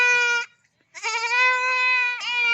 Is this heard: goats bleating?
yes